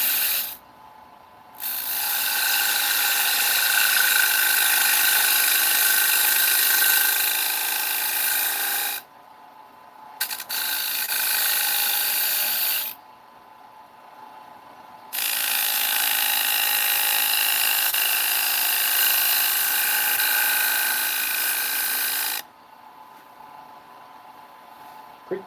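A power sander runs in a workshop in long, loud, steady bursts with a high whirring, rasping tone, stopping briefly between passes, with short quiet gaps and a little background voice.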